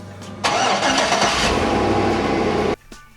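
A car with a badly rusted frame cranks briefly, then its engine catches and runs loudly at a steady idle for about two seconds before cutting off abruptly.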